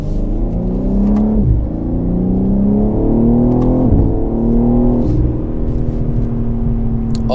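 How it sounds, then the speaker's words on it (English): An artificial engine sound is piped into a car cabin under acceleration, a loud droning hum that climbs in pitch, drops at each gear change and climbs again across several shifts. "Oh, this fake sound in this car is so annoying."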